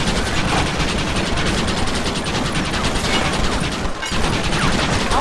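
A relentless barrage of rapid, overlapping shots in a Red Dead Redemption firefight, loud and unbroken for the whole stretch with only a momentary lull.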